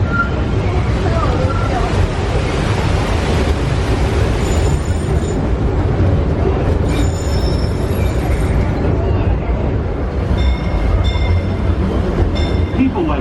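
Disneyland Railroad steam train ride: a steady, loud rumble of rolling wheels on the rails, with occasional high metallic squeals and faint background voices.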